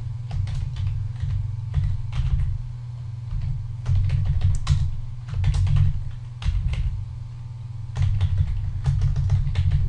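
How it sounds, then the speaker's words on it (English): Search text being typed on a computer keyboard: rapid, irregular bursts of key clicks over a steady low hum, close and fairly loud, with brief pauses between runs of keystrokes. "You're gonna go to Google and you're gonna type that string in."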